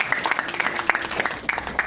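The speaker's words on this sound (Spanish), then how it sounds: "al señor Gabriel Espinosa Díaz, que lo recibiremos con un fuerte aplauso, por favor." Audience applause welcomes a speaker at an academic talk on criminal law theory, brisk uneven clapping from a modest crowd, close and moderately loud, with no voices.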